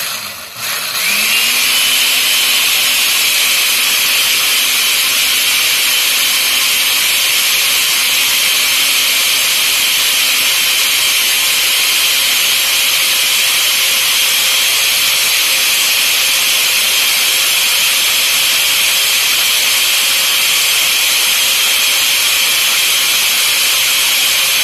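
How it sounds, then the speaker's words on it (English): A blender runs steadily at high speed, blending sea moss, turmeric and mango skin, starting with a short spin-up and then holding a loud, constant whine with no talk over it. "Turn that blender on."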